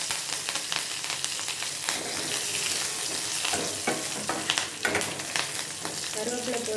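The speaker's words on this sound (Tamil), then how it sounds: "கடுகு பொரிஞ்ச கொஞ்சம் சின்ன வெங்காயம் பொரிஞ்ச கொஞ்சம் கருவேப்பிலை" Mustard seeds, small shallots and curry leaves frying in hot oil for coconut chutney, a loud continuous crackling sizzle with popping bursts throughout, close up and without speech.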